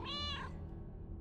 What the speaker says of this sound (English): Here's a cat.